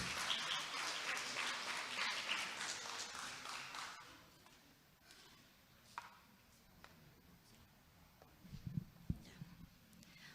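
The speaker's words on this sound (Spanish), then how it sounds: "recibimos con un fuerte aplauso" A burst of applause from a crowd at a school quiz contest final fills the opening seconds, then fades to a quiet room with scattered taps and small knocks.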